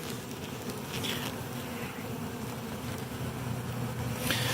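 Honeybees swarm around a Flow Hive, their steady, dense buzzing close by and continuous, with individual bees droning past the microphone now and then.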